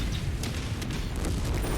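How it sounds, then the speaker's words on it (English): Ammo or weapon explosion aboard a mech in the MechWarrior 5 video game, heard as a continuous low rumbling boom with dense crackle, loud and sustained throughout. "Weapon explosion going, or ammo explosion going on."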